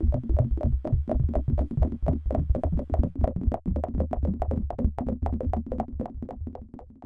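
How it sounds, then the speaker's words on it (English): A SuperCollider synth with wavefolding and randomized bandpass filters plays a rapid stream of percussive, plucky pulses in a steady rhythm, dense and close, with no voices. "Using the default argument values that I've provided, the synth def sounds like this."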